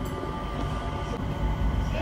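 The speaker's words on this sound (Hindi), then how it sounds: "तो हमारी मेट्रो जो हमें T1 लेके जा रही है।" Skytrain metro rumbling through Singapore airport between Terminal 2 and Terminal 1, a steady low rolling drone with faint hum throughout, close and continuous, with some indistinct voices mixed in.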